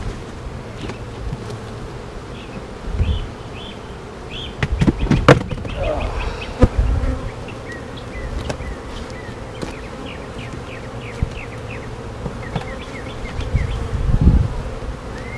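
Honey bees from an opened hive that is ready to swarm again hum in a dense, steady buzz close by, with individual insects zipping past and occasional bumps and handling noises.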